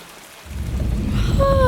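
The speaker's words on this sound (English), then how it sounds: "It's pouring down rain" Steady heavy rain pours down, a dense rushing patter that swells after a brief quieter start, with a faint whistling tone near the end.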